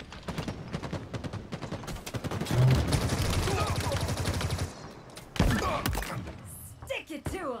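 Weapons fire in a Halo Infinite online match: rapid automatic bursts, then a second volley after a short gap, with a voice calling out through the shooting.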